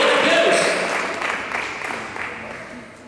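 A church congregation applauds during a Sunday service, steady massed clapping that fades gradually over a few seconds.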